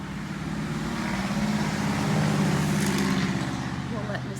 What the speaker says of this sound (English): We'll let Mr. Loud Truck go by.